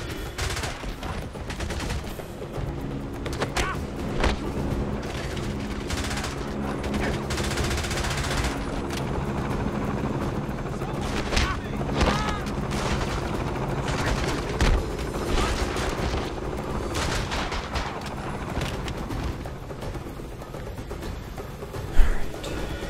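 Sustained gunfire in the James Bond 007: Blood Stone video game, with dense bursts of rapid shots and automatic weapon fire continuing almost without pause, loud and close, with a sharper blast near the end.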